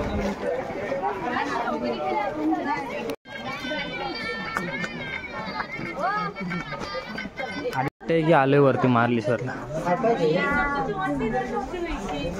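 Lively crowd chatter at the night fair at Marleshwar temple, with a dense babble of many voices nearby and a person talking over it throughout.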